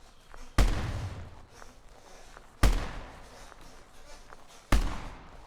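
Three sharp, loud gunshot-like bangs spaced a couple of seconds apart, each with a decaying rumble, over a steady background of game ambience.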